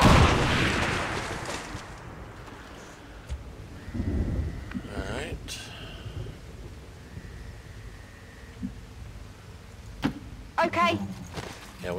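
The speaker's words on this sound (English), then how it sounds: "Bombs away." Bombs explode in the XCOM 2 game, with a deep rumbling blast at the start followed by scattered booms and crackling impacts, while people talk over the action.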